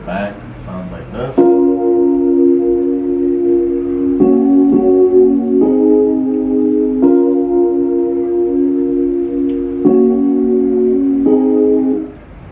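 Rhodes electric piano keys play sustained, warm chords within a hip-hop beat, struck in a slow repeating pattern with each chord ringing out clearly and loudly.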